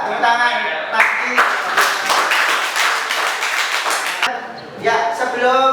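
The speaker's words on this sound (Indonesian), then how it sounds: "Ya, tepuk tangan pasti." Students in a classroom clap together in a dense burst of applause lasting a few seconds. It is loud and close, with a teacher's voice before and after.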